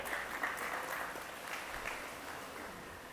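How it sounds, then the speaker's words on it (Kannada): An audience at a book release event claps together in sustained, dense applause that stays fairly even for a few seconds before easing slightly, with no speech over it. "ಅವ್ರಿಗೊಂದು ದೊಡ್ಡ ಚಪ್ಪಾಳೆ ಬರುತ್ತೆ."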